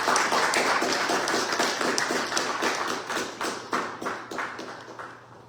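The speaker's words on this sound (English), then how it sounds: "let's give her a nice round of applause" A church service congregation gives a round of applause, steady rhythmic clapping from a modest group that starts full and gradually thins and fades out.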